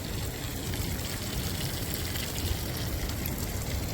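Water runs steadily from a pipe laid down from the mountains near the Kedarnath camp area, a continuous close trickle and splash with no voices.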